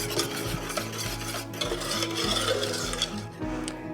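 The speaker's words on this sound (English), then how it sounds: "you do not stop whisking it" Lemon curd being whisked steadily in a pan on low heat, a continuous scraping, rasping stir with a regular rhythm and a low hum underneath, close and fairly loud with no talking.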